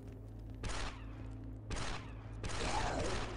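Enemy gunfire in Republic Commando, coming as three loud bursts of rapid shots, each lasting about a second, over a steady low hum.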